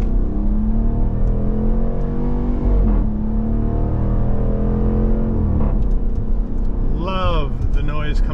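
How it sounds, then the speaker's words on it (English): A 2023 Dodge Durango R/T Hemi V8 engine revs up and settles repeatedly, deep and close, with a rising rev near the end and talking over it. "Love the noise coming out of this Hemi."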